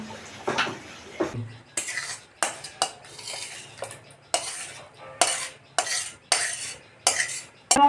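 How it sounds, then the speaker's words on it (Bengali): A spoon scrapes and clanks against a metal pot while masala is stirred into khichuri, a series of sharp, close metallic knocks and scrapes in an irregular rhythm with brief pauses between strokes. "এবার আমি মশলাটাকে খিচুড়ির মধ্যে দিয়ে দেবো"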